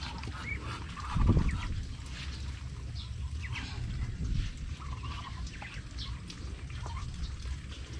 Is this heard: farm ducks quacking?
yes